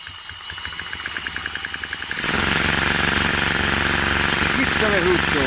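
A small engine idles with a rapid regular chugging, then revs up to a louder steady buzz; a voice briefly speaks near the end.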